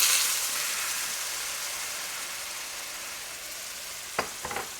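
Ground pork stir fry sauce sizzles loudly in a Hexclad pan, a steady hiss that fades slightly over time, with a few light clinks of a utensil near the end.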